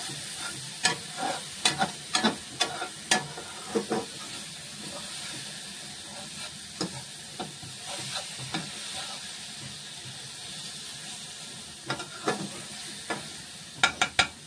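Spices fry in oil with a constant close sizzle, broken by repeated sharp scraping taps of stirring that cluster at the start and end, with no speech.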